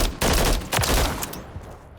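A Holger 556 rifle fires in rapid bursts in Modern Warfare 3, with sharp, loud overlapping reports in quick succession that fade to a brief tail at the end.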